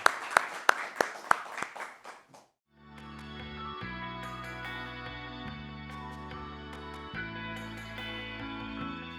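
Audience applause for two speakers at a conference session: a handful of sharp, separate claps over about two seconds, which stop as steady background music comes in and carries on.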